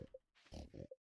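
Short pig oinks and grunts from a video game, a few quick snorts in close succession, quiet and with no talk over them.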